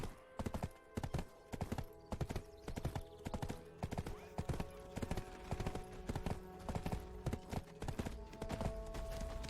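Horse hooves gallop in the online game Black Desert Online, a fast, regular clip-clop of hoof strikes that runs steadily throughout at moderate volume.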